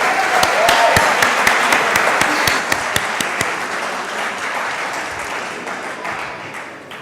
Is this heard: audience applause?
yes